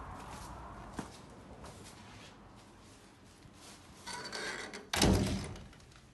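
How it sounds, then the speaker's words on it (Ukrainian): An oak front door at the entrance of a house opens with a sharp knock near one second, a few soft shuffles, and then a loud thunk near the end as it is pushed. The sounds are close, and no one speaks. "Заходимо ось такі у нас дубові двері."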